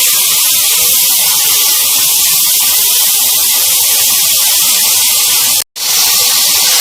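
Minced meat fries with garlic and ginger in a hot pan, a loud, steady, close sizzling hiss that breaks off for an instant near the end before it resumes.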